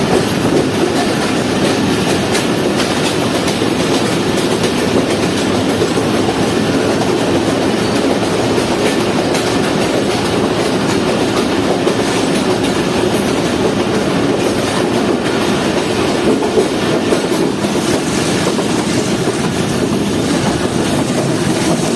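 Aboard the Jaffer Express passenger train between Peshawar and Lahore, a loud continuous rumble of the carriage fills the space, with steady wheel clatter on the rails and a faint high squeal at times.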